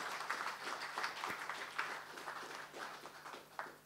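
An audience at a book launch on China–South Africa relations applauds a speaker taking the stage; moderate, steady crowd clapping, fairly quiet and somewhat distant, over a faint hum.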